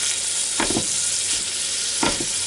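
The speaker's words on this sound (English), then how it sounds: "now it's starting to sizzle down in there" Ground beef for spaghetti sizzling in a pan: a steady, close frying hiss, alone, with a couple of short scraping stirs.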